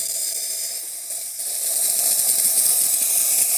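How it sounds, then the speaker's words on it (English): Gaggia Classic EVO espresso machine's steam wand hissing steadily and loudly close by, a continuous bright rush that swells slightly louder after a brief dip, with no talk. "now that the light has turned on, we can start steaming"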